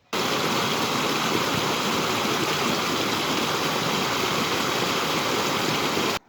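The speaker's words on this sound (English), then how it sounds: "just this gentle trickling stream that is the River Bourne" Gentle trickling stream of the River Bourne, a steady close wash of running water that stays even throughout, with no voices.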